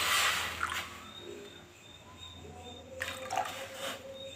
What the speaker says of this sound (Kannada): ನೀರು ಹಾಕ್ತಾಯಿದ್ದೀನಿ.